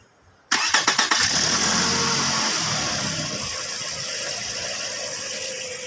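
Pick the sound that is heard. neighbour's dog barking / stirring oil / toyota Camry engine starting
toyota Camry engine starting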